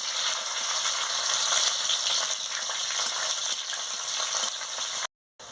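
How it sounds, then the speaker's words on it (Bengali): Chopped onion frying in hot oil in a pan while cooking a turnip and soybean curry, giving a steady, close, continuous sizzle that cuts off abruptly near the end; no one speaks. "তেল গরম হয়ে গেছে, আমি পেঁয়াজ কুচিটা দিয়ে দিচ্ছি। দিয়ে ভালো করে ভেজে নিচ্ছি।"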